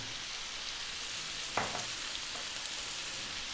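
Lamb browning in a pan over medium heat gives a steady, fairly quiet sizzle, with one brief clatter of stirring partway through.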